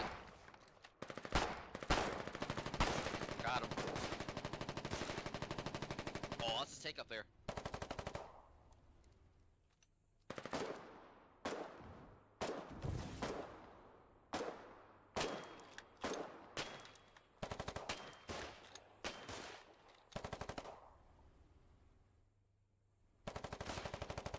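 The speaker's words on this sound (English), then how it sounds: "They're up in the cliffs with an LMG." Light machine gun fire in the war game Foxhole sounds in long sustained bursts, then in rapid shorter volleys with brief gaps. The shots are loud and near, mixed with scattered distant gunfire.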